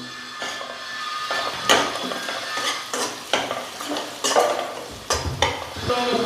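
Mutton with turmeric being stirred in a hot pan: a steady sizzle of frying under repeated close scrapes and clinks of the spoon against the pan.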